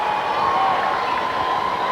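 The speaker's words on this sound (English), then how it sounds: "Look at that cheering over there." A dense crowd at a 1997 World Series Game 7 cheers continuously, a broad, steady roar of many voices heard from within the stadium.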